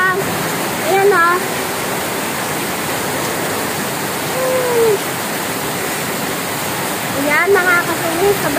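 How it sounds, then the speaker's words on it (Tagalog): Heavy rain pours onto a house roof in a steady, loud, dense roar that continues throughout, with a few brief faint chirps rising above it. "sobrang lakas ng ulan"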